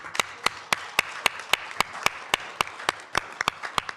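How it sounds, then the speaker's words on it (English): Sparse audience clapping at a city council meeting, a handful of distinct, close hand claps in an uneven rhythm over quiet room tone, with no talk. "We should clap."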